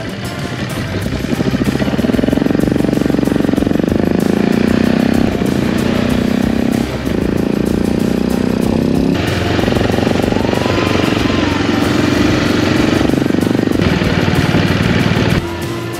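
AJP PR7 motorcycle engine, freshly rebuilt after engine damage, running steadily and loudly up close in a workshop, with a continuous throaty drone and small shifts in revs, no talking.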